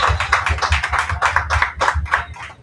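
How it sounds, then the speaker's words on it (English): Applause from the audience at a live unplugged crossover show, a dense run of close, loud hand claps lasting a few seconds with no talk over it. "Applause."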